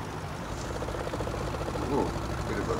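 A tractor engine from Farming Simulator 19, set on a 1950s Sussex farm, drones with a steady low rumble throughout while someone talks over it.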